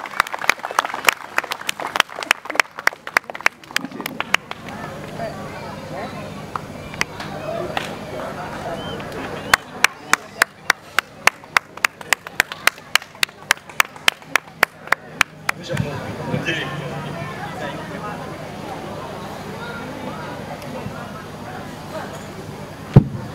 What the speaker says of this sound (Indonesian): Tepuk tangan semua untuk Dr. Agus